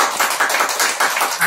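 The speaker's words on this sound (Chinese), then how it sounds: "线下要鼓掌啊" A live audience at the Chaofan global conference claps in rhythmic bursts that swell and ease, steady, moderately loud applause filling the hall with no voices over it.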